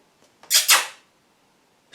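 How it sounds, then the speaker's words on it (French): A house cat gives two quick, high meows close by, one right after the other, with quiet surroundings before and after. "Il y a un chat qui m'appelle."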